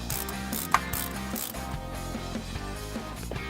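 A ratchet cranks down the throttle cable and return spring on a Quick Fuel QFi electronic throttle body injection install, a rapid run of small mechanical clicks with one sharper snap early, close up over a steady humming background.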